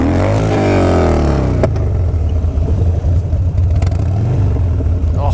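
A Harley Dyna motorcycle engine roars close during a wheelie, revving high and sliding down in pitch before dropping into a rough, clattering lower rumble.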